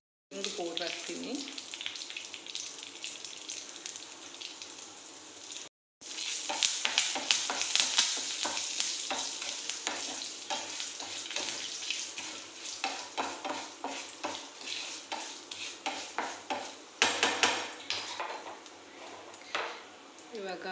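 Curry leaves and asafoetida hitting hot oil for a homemade mango pickle, a loud bright sizzle that runs almost continuously with a brief gap, stirring scrapes, and a voice over it.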